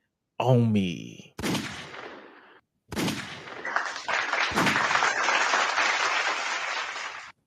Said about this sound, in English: We got gunshots and claps